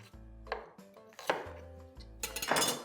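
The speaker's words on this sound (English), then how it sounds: "The next are some red onions, just cutting them roughly." Red onions chopped roughly on a board, a few close, sharp knife thuds spaced about a second apart, quiet and alone without talk.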